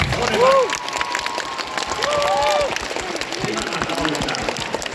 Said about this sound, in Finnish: Annetaan aikaa aplodit.